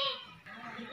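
Goat bleating at a goat farm, a single short nasal call that is loud and close, with no one speaking over it.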